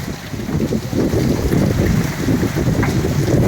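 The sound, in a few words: heavy rain storm with wind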